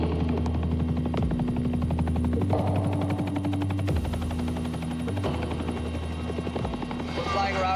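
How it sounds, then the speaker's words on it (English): A Pemex helicopter in flight gives off a loud, constant rotor thump and engine drone heard from inside the cabin, with a voice talking faintly beneath it. "We're flying around right now in the Pemex helicopter"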